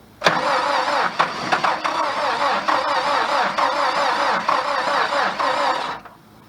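The engine of a 1985 Dodge Ram 50 pickup, an old truck with knocking in the crankcase, cranks briefly, catches and runs loud and rough for several seconds before shutting off. The engine is close and no one talks.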